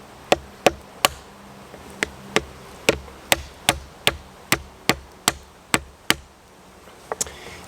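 A crab knuckle shell being cracked with sharp, evenly spaced strikes, about fourteen crisp close knocks in a steady rhythm, ending with a quick double tap; no voices.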